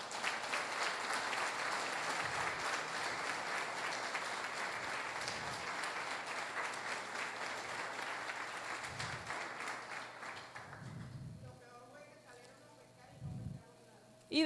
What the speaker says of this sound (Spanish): Yo creo que el amor de Dios se merece un aplauso